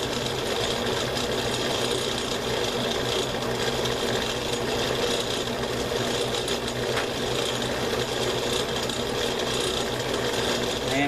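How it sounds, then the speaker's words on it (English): Lathe runs continuously at a steady speed, a dense close mechanical whir with a faint rhythmic chatter throughout, and no voices. "I am going to up the speed on the lathe a little here"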